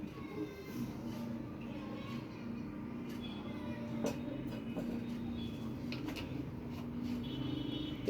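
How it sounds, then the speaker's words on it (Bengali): A gas stove burner running on low gas pressure gives off a steady droning rumble with a faint hiss, close by and continuous, with a few light clicks and knocks over it. "গ্যাসের সমস্যা, গ্যাসের শব্দ করতেছে"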